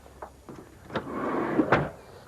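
Sliding side door of a 1995 Chrysler Voyager MPV rolling along its track and thudding shut, a soft rumble building over about a second before a firm close, with a few light clicks before it.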